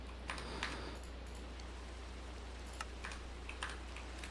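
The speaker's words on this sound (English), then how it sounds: "All right, we're still raining." Rain patters steadily in a Minecraft world, a faint, even hiss broken by scattered light drops and ticks, with no talk over it.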